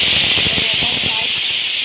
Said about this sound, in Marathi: इथे कुकरची 3री शिट्टीसुद्धा झालेली आहे